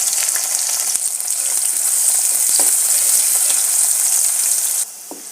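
Chopped onion fries in oil with cardamom, cinnamon and bay leaf, producing a loud, dense, continuous sizzle up close with a few stirring knocks, the hiss easing abruptly near the end.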